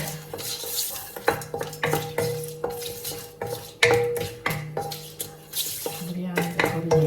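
Bay leaves fry in hot oil in a pot for chicken biryani, with a steady sizzle under repeated metallic clinks and scrapes of a spoon stirring against the pot, close and fairly loud.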